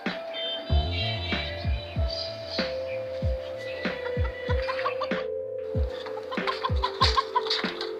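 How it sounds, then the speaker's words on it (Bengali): Pet backyard chickens kept alongside pigeons cluck close by in a steady run of short repeated calls, with a faint continuous hum behind them. "আমার মুরগি আর এখানে আমার কবুতর আছে।"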